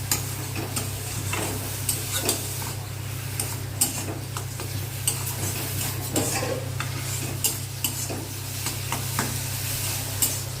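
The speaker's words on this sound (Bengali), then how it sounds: "যতক্ষণ না এরকম ভাজা ভাজা হচ্ছে ততক্ষণ একটু এটা নাড়তে হবে।" Food stirred and frying in mustard oil in a pan, a steady sizzle with repeated scraping and clinking of the spoon against the pot, close and continuous with no talk.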